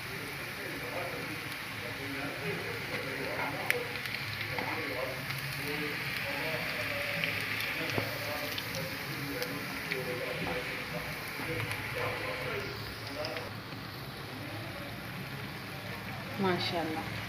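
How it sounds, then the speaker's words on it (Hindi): Potato fries fry in hot oil, a faint, steady crackling sizzle with scattered pops running throughout, while a voice talks over it. "ऑयल में डाल दिए फ्राई होने के लिए। एक साइड फ्राई हो गई है, अब हम इसे चेंज कर देंगे।"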